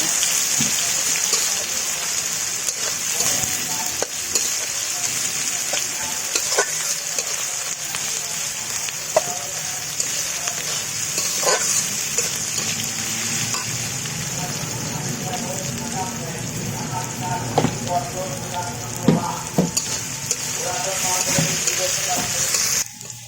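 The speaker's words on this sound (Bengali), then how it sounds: "পেঁয়াজ কুচি, কাঁচামরিচ সব কিছু খুব সুন্দরভাবে ভেজে নেব।" Chopped onion and green chillies fry in hot oil for a potato dum curry, giving a continuous crackling sizzle with scattered pops and occasional utensil taps that runs steadily from start to finish.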